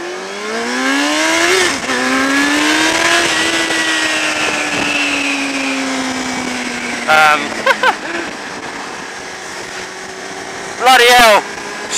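A motorcycle on a large group ride accelerates hard, its engine note climbing and holding loud and close, with brief gusty bursts of wind noise later on.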